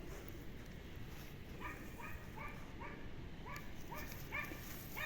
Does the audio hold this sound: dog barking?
yes